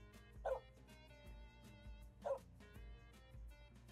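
A cartoonish puppy in a video game gives two short bright yips a couple of seconds apart, riding over steady looping game music with no talking.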